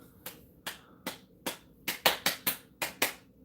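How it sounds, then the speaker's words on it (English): One person claps hands slowly and deliberately, about ten crisp, close claps spaced roughly evenly with no other sound between them, the rhythm tightening slightly in the second half. "I just realized that I clapped a lot slower than I normally do"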